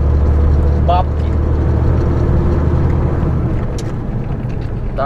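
A loaded truck drives steadily on a Ural mountain road while overtaking, its engine and road noise forming a loud, constant drone with little change across the stretch.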